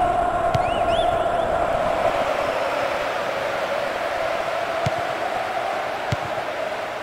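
A football stadium crowd in the PES 2012 video game gives a steady loud roar and murmur with a faint whistle early on and no talk.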